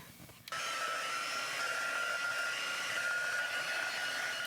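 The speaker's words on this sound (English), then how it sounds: "I used a blow dryer to try to help dry some of this" A blow dryer switches on abruptly and runs at a steady, loud whooshing hiss with a faint whine, aimed at a drying colored pencil drawing, continuous with no talk.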